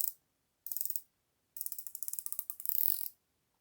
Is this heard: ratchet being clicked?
yes